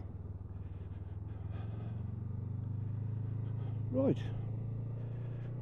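Steady low engine hum from a new 2022 Honda CMX 500 Rebel being ridden gently while running in, a constant even drone close by, with a brief spoken word near the end.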